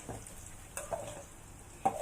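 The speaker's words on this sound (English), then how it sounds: "we're going to let the onion cook till it starts getting a bit brown" Onion frying in a pan before tofu is added, a faint low sizzle with a few soft stirring scrapes and light clicks, quiet and close with no talking.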